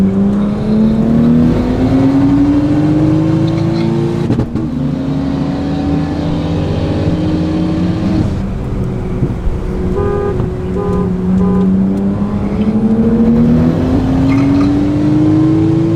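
A BMW 335i with aftermarket launch control set at 4,500 RPM and exhaust burbles holds a steady, loud engine drone with rising rev sweeps and a brief break midway, with no talking.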